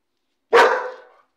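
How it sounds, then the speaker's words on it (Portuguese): A single sharp dog bark rings out close and fairly loud with a short decaying tail, from small dogs in a home backyard behind a white wall, with no voices over it. "Olha os cachorrinhos, gente,"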